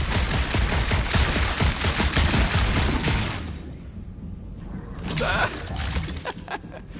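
Rapid gunfire in the Guardians of the Galaxy video game, a dense, loud burst of shots for several seconds that breaks off, followed by a short second flurry with game effects.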